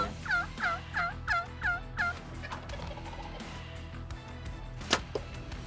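Wild turkey gobblers in the field give a rapid series of five loud gobbles in a row, followed by quieter calling and one sharp close knock.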